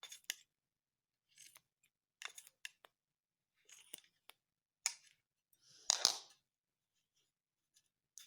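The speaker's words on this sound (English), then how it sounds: "Put some at a time and then start cutting it into smaller pieces." Scissors snipping material into small pieces over a bathtub for a homemade bubble bath, sparse crisp cuts in short irregular clusters with quiet gaps between, close and fairly soft, with no voices.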